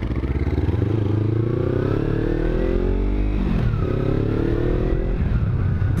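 A motorcycle on a group ride hums along steadily and loudly, its engine note rising and falling slightly as the rider cruises, with constant wind and road roar throughout.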